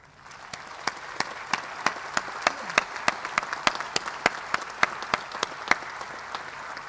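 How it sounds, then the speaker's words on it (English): A large audience at a U.S. Naval War College graduation ceremony applauds steadily for the graduates' families and friends, with dense clapping that holds for several seconds and individual sharp claps standing out. "could you please turn around and applaud them for their support?"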